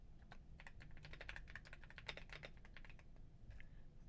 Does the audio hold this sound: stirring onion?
no